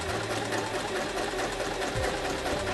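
A Kreshay sewing machine stitching fabric, a steady fast mechanical whirr running continuously at close range.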